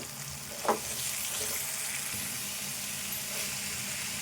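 Cluster beans and egg curry frying in a pan while being stirred, a steady close sizzle with a sharp scrape or clack early on and soft stirring scrapes throughout, no talk.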